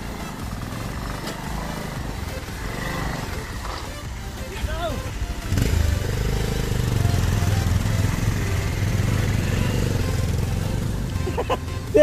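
Motorbike engine droning steadily along a mountain road between Butwal and Palpa, loud and continuous with a surge in level midway, wind and road noise mixed in.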